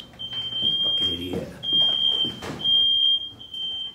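Smoke alarm in a house kitchen after food was burnt, its high steady beeping tone running in long repeated bursts at close range while people talk loudly over it.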